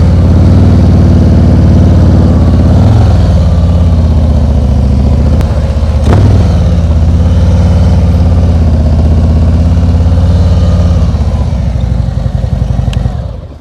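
A motorcycle engine idling and pulling at low speed through a slow right U-turn, a close, loud, continuous throb with slight rises and dips in pitch and no speech.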